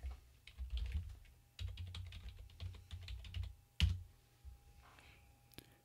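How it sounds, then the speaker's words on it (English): Rapid clicking keystrokes on a computer keyboard as a ping command is entered at a command prompt, close and steady with short pauses and a sharper key press near the end. "And now I want to type in ping,"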